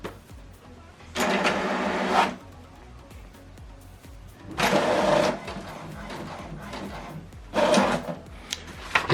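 An HP DeskJet 2800e printer runs in three separate bursts of mechanical whirring and rasping as it prints a page, with quiet pauses between the passes, close by and alone.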